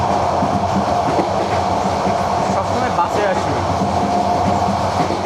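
Train rumbling along inside a passenger carriage on the Dhaka to Cox's Bazar route, loud continuous roar with rhythmic wheel clatter and rattling, heard up close without talking.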